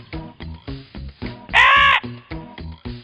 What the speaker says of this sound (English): Near her house, there lived a crow.